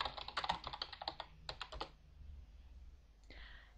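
A command typed on a computer keyboard while playing Aardwolf MUD: a quick burst of close, crisp key clicks, then a pause and one final keystroke.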